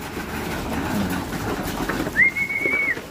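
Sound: racing pigeons at the loft

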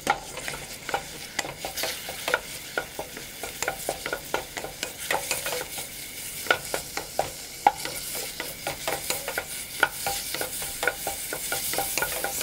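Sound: beef stir-frying in sesame oil in a pan

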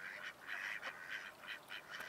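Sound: ducks on a pond

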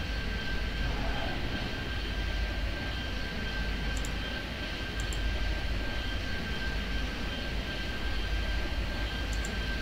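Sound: small plane engines in video game Airport Madness 3D

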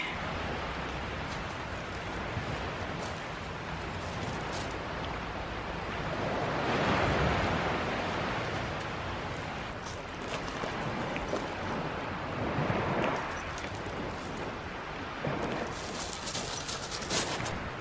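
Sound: waves on a beach in Positano

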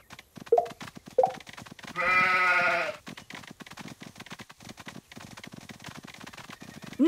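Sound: sheep bleating in a Paw Patrol video game

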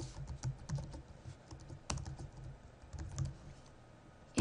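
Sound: typing an event name on a computer keyboard

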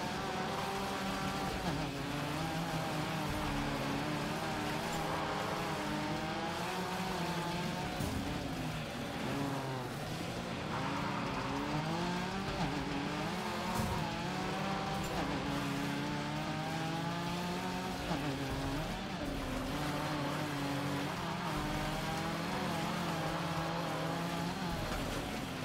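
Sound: Porsche race car driving in Gravel video game

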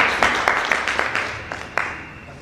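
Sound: audience applause

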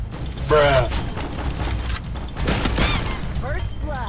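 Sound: gunfire shooting at a spider in a video game

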